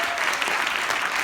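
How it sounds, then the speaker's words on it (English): Audience at an award event gives a round of dense, steady applause that fills the short moment at even volume. "Big round of applause for Wynn."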